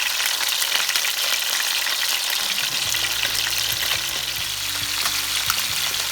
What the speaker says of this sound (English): So I'm gonna heat it up really well before I put the fishes in.